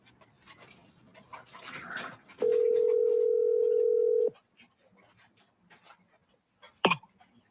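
A telephone dial tone sounds as a single steady, loud, unbroken tone for about two seconds mid-clip while calling someone back, with a dog panting and faint rustling before it and a brief sharp click near the end.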